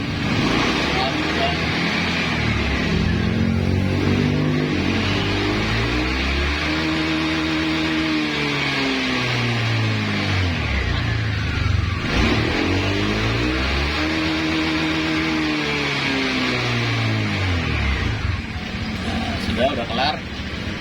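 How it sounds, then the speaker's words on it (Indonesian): A Honda Vario 150 fuel-injected scooter engine is revved during a service, its pitch rising and falling in two long sweeping climbs and drops under someone speaking throughout. "Jadi di sini RPM kita coba kita gas, kita geber."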